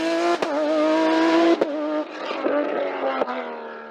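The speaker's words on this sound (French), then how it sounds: "Olivier Berreur impose sa Norma M20 F3 litres dans la classe CN3, réservée aux sports prototypes de ce calibre" A Norma M20 F3-litre CN3 sports prototype race car climbs a hillclimb course, its engine loud and close, revving up through gears with sharp shift breaks and a steady high-pitched whine.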